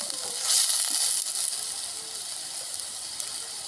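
Ginger, cumin and garlic paste frying in a pan with a little water for a fish, taro, pointed gourd and potato dish, making a steady hissing sizzle that swells briefly near the start, then settles.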